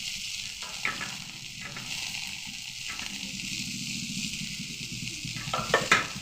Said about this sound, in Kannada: ಒಂದು ಸ್ವಲ್ಪ ಎಣ್ಣೆಯಲ್ಲಿ ಹಂಗೆ ಬೆಚ್ಚಗೆ ಮಾಡ್ಕೊಬೇಕು